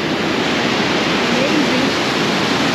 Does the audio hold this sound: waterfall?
yes